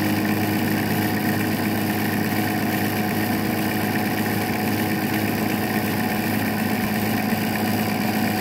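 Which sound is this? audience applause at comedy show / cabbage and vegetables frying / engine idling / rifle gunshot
engine idling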